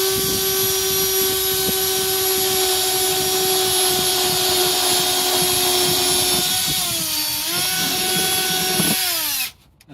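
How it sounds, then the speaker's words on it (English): A power drill bores holes through a plastic worm bin, its motor whining steadily and loud and close for nearly ten seconds, then dipping in pitch before stopping abruptly. "we're going to drill, for this type of bin, we'll drill a hole here"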